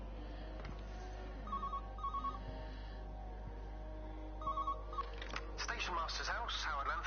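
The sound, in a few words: telephone ringing in video game Everybody's Gone to the Rapture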